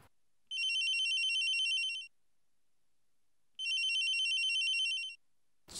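A telephone rings in two long electronic bursts separated by a pause, clear and fairly loud in an otherwise quiet room.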